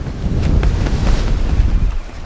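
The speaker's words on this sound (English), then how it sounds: "Pretty heavy waves, big and heavy waves. Crashing the boat over and leaning her over." Heavy two-to-three-metre waves crash against a leaning sailboat at sea between Shetland and the Faroe Islands, with loud, continuous wind buffeting the microphone and surging water throughout.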